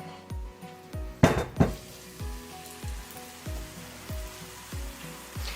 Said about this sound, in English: we are ready to put our crepe batter on here